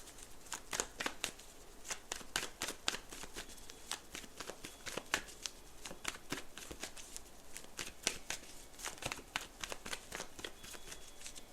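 Repeated crisp snaps and riffles of a card deck being shuffled nearby, in quick bursts, with no talking.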